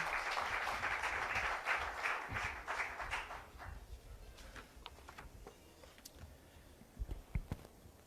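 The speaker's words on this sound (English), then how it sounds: "please give him a big round of applause, Mr. Vikram Misri" An audience at a SOBA Delhi chapter event applauds Vikram Misri, dense sustained clapping for about three seconds that thins into scattered individual claps and fades.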